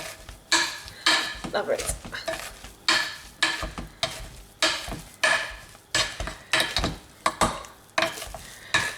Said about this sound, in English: I'm just going to mash these together now